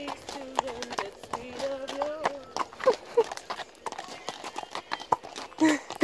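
Horses, including a mare following the herd, walk along a road on the way to a show-jumping competition, hooves clip-clopping in a steady rhythm close by while someone talks over them.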